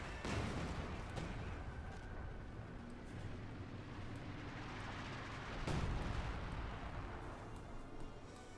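Artillery barrages in the WWII strategy game Company of Heroes 2 rumble as a dense, continuous wash of booms, with a heavier blast near the middle and no talk over it.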